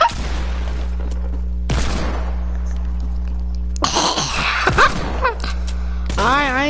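Pump shotgun blasts ring out in a Fortnite-style shooter game, several sharp bursts spaced across the moments amid other game effects and a loud steady hum.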